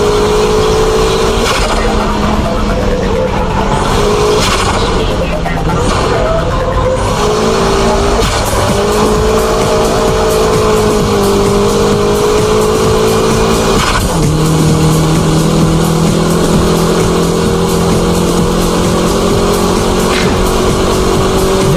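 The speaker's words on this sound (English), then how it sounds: "This is the ultimate style of drifting, high-speed drifting." A car high-speed drifting, its engine droning loud and steady as the tires squeal in long, wavering tones that shift pitch throughout.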